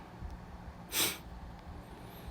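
A single short, breathy sniff through the nose, close and fairly quiet, with faint background noise around it.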